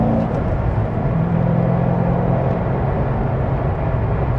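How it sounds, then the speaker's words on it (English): Steady, deep V8 engine rumble from a C6 Chevrolet Corvette Z06 cruising after an on-ramp, a constant low drone with road noise heard from inside the car. "Whenever you get to listen to that nice V8 rumble."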